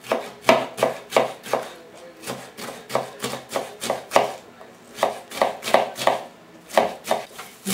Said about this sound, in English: You cut the stems out.